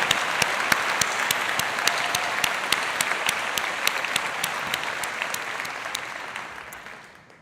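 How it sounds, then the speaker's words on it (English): A commencement audience claps loudly and steadily, a dense sustained round of applause from a large crowd that carries on before tapering off at the end. "So let's give them another round of applause"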